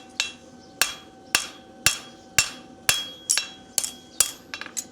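A blacksmith's hammer strikes hot metal in a steady rhythm of about ten ringing blows, close and alone, ending with a quick flurry of lighter taps.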